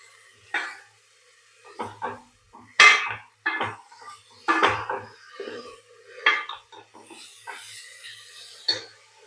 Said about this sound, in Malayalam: ഇനി നമുക്ക് പച്ചക്കറികൾ ചേർത്ത് കൊടുക്കാം